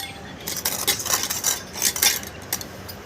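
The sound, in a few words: chopped onions poured into pan for omelette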